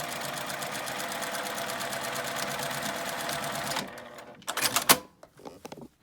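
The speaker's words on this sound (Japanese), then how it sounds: "ここで折り返して返し縫いをします。" A sewing machine runs in a fast, even needle rhythm while backstitching a drawstring lunch bag with handle, then stops, followed by a few sharp handling clicks and bumps.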